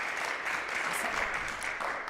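Steady, dense applause from an audience at a student talk showcase, fairly faint and continuous throughout.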